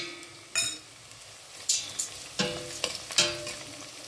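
Onions fry in a pan for a beans curry with a soft background sizzle, broken by several sharp scraping stirs of a utensil against the pan.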